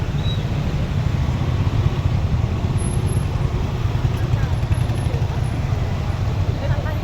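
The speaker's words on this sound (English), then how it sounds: "Even in such a heavy traffic jam, you will not hear a single honking." Dense traffic jam in Aizawl city, Mizoram, with cars and two-wheelers idling and creeping along, a steady low rumble of engines with no horns at all, continuous throughout.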